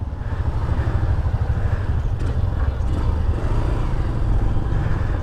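A motorcycle engine rumbles low and steady as riders set off on a ride, a continuous close throb with faint clatter and no one talking.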